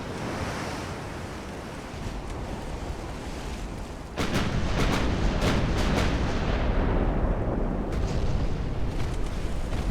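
Naval guns fire in Ultimate Admiral: Dreadnoughts, a booming report that jumps the loudness mid-way and leaves a roaring rumble behind it, with a few sharper cracks following, all over a constant sea-and-wind wash.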